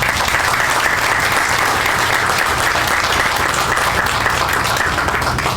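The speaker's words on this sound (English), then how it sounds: "And if you would help me join them with a round of applause." A round of applause from an audience at a Texas hurricane-preparedness press event, continuous thick clapping, loud and steady from start to finish with no break.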